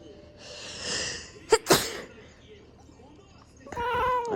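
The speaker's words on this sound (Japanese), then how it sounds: "もうくしゃみは出てしまうもんやから" A person sneezes twice in quick succession, sharp and close, near a cat; faint voices come before and after the sneezes.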